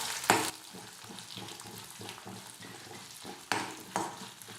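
Urad dal roasting in oil in a pan over a medium flame gives a steady sizzle, with a few louder scraping stirs near the start and toward the end.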